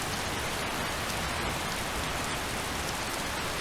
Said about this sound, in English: Let's find some shelter from this rain.